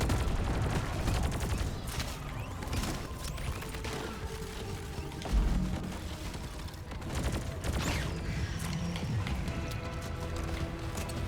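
Heavy explosions and rapid gunfire from a grenade launcher in a shooter video game, a dense, continuous barrage with repeated booming blasts throughout.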